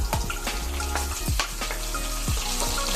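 Hot cooking oil spatters and crackles in a pan of frying garlic and onion, a dense close sizzle with sharp pops breaking through it.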